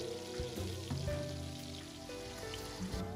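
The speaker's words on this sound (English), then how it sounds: "Make sure to flip your short ribs so you get a nice sear on all sides." Short ribs sear in a Le Creuset Dutch oven, giving a steady, fairly quiet sizzle and crackle of fat with a faint tonal hum of music underneath, and no talking.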